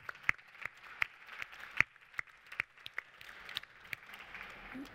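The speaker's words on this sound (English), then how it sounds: "Let's give them a round of applause." Sparse applause from an audience at an innovation pitch competition, faint and distant-sounding with scattered individual claps rather than a dense wash.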